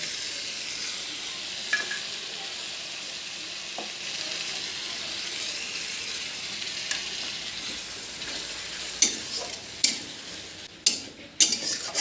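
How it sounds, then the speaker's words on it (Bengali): Spices sizzle steadily in hot oil in a pan for a mixed vegetable curry, a close, even hiss; toward the end several sharp metallic taps of a spoon on the pan cut through it. "মশলাগুলো ভালো করে কষিয়ে তারপর যেগুলি দিয়ে দেব"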